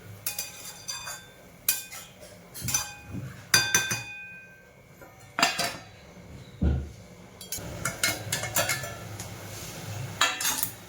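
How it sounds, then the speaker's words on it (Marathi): A lid is set on a cooking pot of vermicelli simmering in milk and sugar. Several bright metallic clinks and clatters of pot and cookware ring out close by between quiet stretches. "आता याच्यावर झाकण ठेवूया 5 मिनिटांसाठी"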